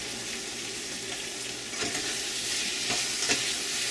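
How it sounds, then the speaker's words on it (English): Okra and tomatoes cooking in a kadai over turned-up heat, a continuous dense sizzle with a few scraping stirs, close and fairly loud with no talk. "we're gonna cook this until it kind of dries out. We turn the heat back up"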